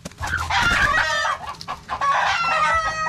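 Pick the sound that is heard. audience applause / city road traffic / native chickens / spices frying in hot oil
native chickens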